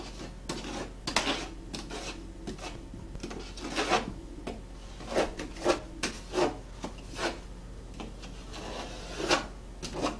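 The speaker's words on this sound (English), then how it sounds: "scrape it down from the top down then" A scraper dragged down window glass during vintage flow-on tinting, producing repeated close rubbing and rasping strokes in an irregular rhythm over a low steady hum.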